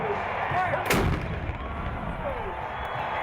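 A 75mm cannon fires one deep, booming blast at a Colorado State University football game, amid a steady crowd rumble.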